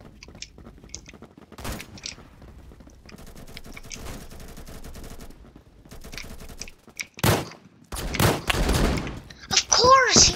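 Machine shotgun fire in Roblox Phantom Forces comes as loud, sharp bursts of blasts near the end, following quieter stretches of game noise and chatter.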